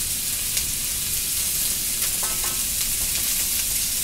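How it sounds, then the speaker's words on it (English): A sweet teriyaki sauce hits a hot pan of chicken stir fry and sizzles loudly and steadily throughout, a dense hiss close to the listener with scattered brief crackles and pops and no voices. "I'm going to throw some sauce in there."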